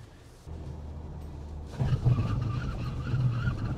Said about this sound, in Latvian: nu tagad mēs aizslīdējam vairākus metrus tālāk uz priekšu